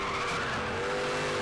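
A car in Need for Speed The Run slides through a drift, tires skidding and squealing in a loud, continuous screech over the engine for a second and a half, with no talk.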